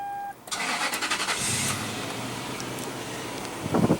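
A 2001 Toyota Sequoia's 4.7 liter V8 cranks and catches after a brief beep, then settles into a steady, moderately loud idle, with no voices over it.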